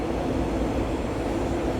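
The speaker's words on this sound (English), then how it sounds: "Oh, there's a train." Train passing close by, a loud continuous roar and rumble of rail noise filling the whole short stretch with no voices.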